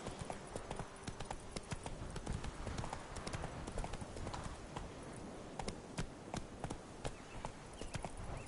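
Roach the horse gallops in The Witcher video game, a steady run of sharp hoofbeats at close range, carrying on throughout with a faint wash of ambient noise beneath.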